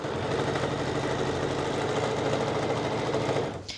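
A sewing machine runs a continuous fast stitch down a skirt seam, its steady mechanical whir close and loud, slowing and stopping at the end.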